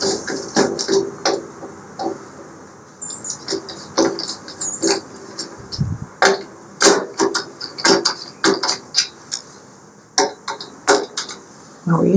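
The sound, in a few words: tightening screws on Blackstone griddle assembly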